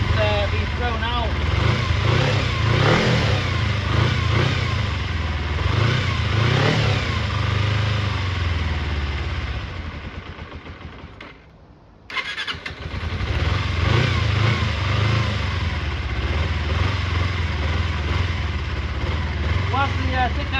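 A Kawasaki Eliminator EL 250 motorcycle engine runs at a raised idle during restoration, a loud, rough, steady rumble that briefly dies away and catches again, with a voice at times.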